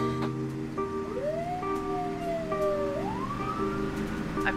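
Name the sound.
ambulance siren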